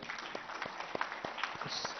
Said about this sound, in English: who really deserve a big round of applause